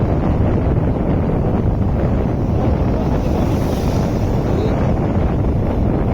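A large waterfall near Kathmandu gives a loud, unbroken roar of rushing water close by, heavy and steady throughout with a strong rumble and wind buffeting the microphone.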